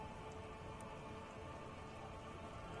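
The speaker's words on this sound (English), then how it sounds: "She puts her hand in the rain." Steady rain falls in a video game scene, a soft, even hiss of drops on surfaces that stays constant and fairly faint throughout, with no voices.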